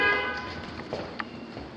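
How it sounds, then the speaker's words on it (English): A car horn honks outside a 1950s house in Dallas during a home inspection, sounding as a short, moderately loud toot at the start and then fading into room noise. "Who's honking?"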